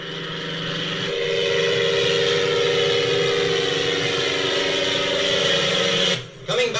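A 1933 AIRUP Flyingwing, a 780-pound light aircraft with a 37-horsepower motor, drones steadily as it climbs, its engine loud and continuous before cutting away abruptly near the end.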